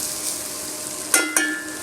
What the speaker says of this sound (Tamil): கொஞ்சம் நல்லா அந்த பூண்டு, சீரகம், மிளகு எல்லாமே ஒரு நல்லா வணக்கிக்கலாம்.